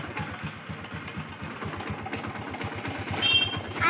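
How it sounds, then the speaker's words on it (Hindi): A motorcycle carrying four riders runs with a steady, rapid engine throb at close range, its pulsing exhaust beat constant and growing a little louder toward the end, with no talking. "भाई चारों बैठ गए बाइक पे, अभी निकल रहे हैं संतोष की तरफ"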